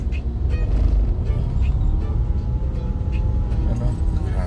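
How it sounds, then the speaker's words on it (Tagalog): Dense, slow-moving road traffic in Metro Manila: a continuous low engine rumble from cars and buses close by, with brief brighter accents as vehicles edge past one another. "Sobrang traffic."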